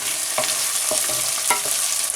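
Keema with peas and potatoes cooking in a pan, giving a steady close frying sizzle with a few soft stirring scrapes and taps, and no voices.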